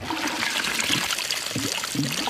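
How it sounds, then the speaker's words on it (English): Gas bubbling up through water in a cattle and household bore, made useless by the gas: a steady trickling, gurgling wash of water with soft low bubbling pops, close by and continuous, with no talk. "you can see the gas bubbling through it"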